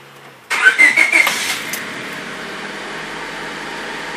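A 1999 Honda Civic LX with a suspected blown head gasket cranks briefly and catches, the starter's pulsing whir giving way to a steady, moderately loud idle close by.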